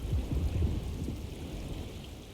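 Storm ambience in the video game Alone in the Dark: steady rain hiss with a low rumble of thunder swelling at the start and fading, no voices.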